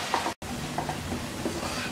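Spice masala of chilli, turmeric and coriander powders fries for a rohu fish curry with potato and drumstick, giving a dense continuous sizzle with faint stirring scrapes and a brief cut near the start.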